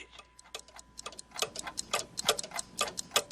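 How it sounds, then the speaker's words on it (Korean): A clock ticks steadily in a quiet room, each tick sharp and close, the beat growing a little louder and more pronounced toward the end, with no voices present. "시계의 초침 소리를 멈추게 할까 하는 생각도 했다"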